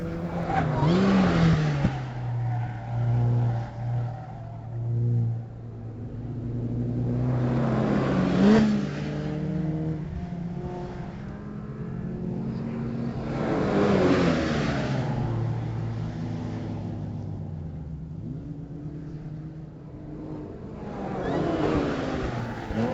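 Race cars at a Hampton Downs sprint meet, including a silver Mazda MX-5, rev and pass repeatedly. Engines rise and fall in pitch as they accelerate through the gears, with several surges over the run at moderate distance.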